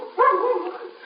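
A dog barks in a 1953 radio police drama, a short muffled burst of yelps and whimpering heard alone and somewhat distant, with a narrow, old-broadcast tone.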